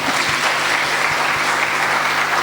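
Dense, even audience applause in a church gathering, many hands clapping together in a continuous wash with no talk over it.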